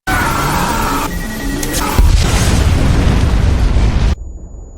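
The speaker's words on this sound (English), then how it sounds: "The powerful explosion that killed 3 lives was a decisive action from the perpetrator" A car bomb detonates in a film scene: a loud, sustained roaring explosion with a heavy low boom and crackling debris, ending in a sudden cut to near silence.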